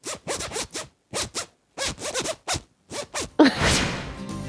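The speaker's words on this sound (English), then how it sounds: "Did you hear the sound the zip made when I opened and closed it really fast?" A clothing zip is pulled open and shut several times in quick succession, giving a run of short, close, rasping bursts that end in a longer scratchy sweep.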